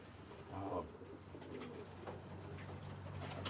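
A gold collar Lucerne pigeon coos softly at close range, a low murmuring call rising briefly, over a steady background hum with faint chirps from other birds.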